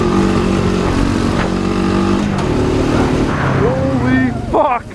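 Honda Foreman 500 ATVs race in a three-way contest, their engines droning loud and close with shifting pitch as they rev, while a rider talks over the noise.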